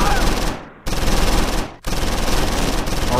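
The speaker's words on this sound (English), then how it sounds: "let's try to fire at the medium tank." Sustained machine-gun fire rattles loudly and steadily in a Close Combat IV Battle of the Bulge winter battle, aimed at a medium tank, in three long bursts separated by brief pauses.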